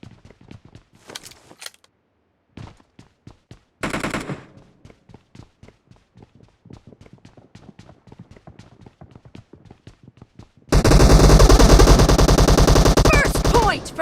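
Gunfire in PUBG Mobile during a team match, with sharp, evenly spaced shots in quick bursts, some isolated and some in rapid runs, ending in a loud continuous burst of sound.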